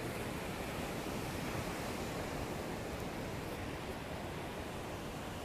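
Ocean surf rolls onto the shore at Venice Beach as a continuous, even broadband wash, faint and distant with a touch of wind and no voices.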